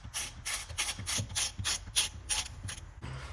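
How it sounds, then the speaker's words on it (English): A 10mm socket wrench tightens the oil drain plug on a zero-turn mower, making a quick run of about ten close, crisp ratcheting clicks in steady rhythm before stopping. "Now you use your 10mm socket again and you close up your drain plug."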